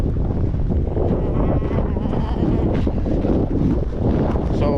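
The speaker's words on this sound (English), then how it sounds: "I apologize for the wind." Strong wind buffets the microphone outdoors at an old naval station airfield by the sea, a loud continuous roar with gusting rumble throughout.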